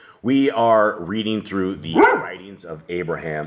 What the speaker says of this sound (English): That is a dog, obviously.